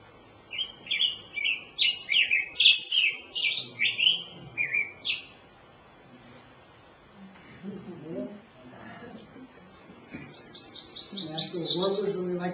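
Birds sing in a Sierra Nevada riparian woodland of alders and cottonwoods, a run of bright repeated chirps near the start, then fainter calls as someone talks quietly over them.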